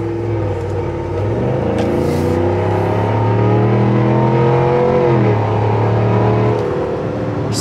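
A 2022 Cadillac Escalade Sport with a CORSA exhaust accelerating, giving a loud, deep, steady engine drone from the cabin that rises in pitch, dips briefly near a gear change, then climbs again.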